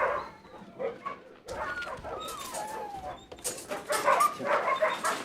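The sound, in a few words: puppy whimpering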